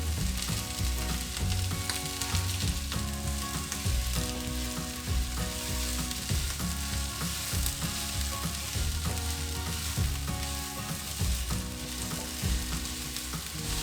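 Peas and onions cook in a pot, giving a steady close sizzle and bubbling with occasional stirring scrapes, continuous and moderately loud without talk.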